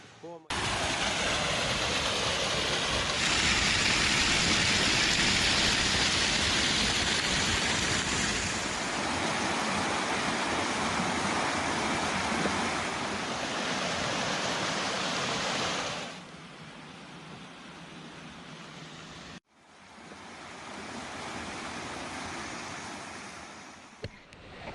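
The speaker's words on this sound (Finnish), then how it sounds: "Tervetuloa Kullaojan putoukselle" Kullaoja waterfall in an old-growth forest reserve near Naruska pours as a broad, steady roar, loud and close, then drops sharply quieter partway through before a short gap and a softer return.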